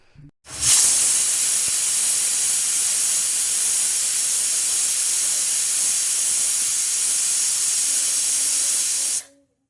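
A pressure cooker cooking guava blows a single long steam whistle, a loud sustained hissing blast that starts abruptly, holds steady for about eight seconds and then cuts off, with faint background sound before and after.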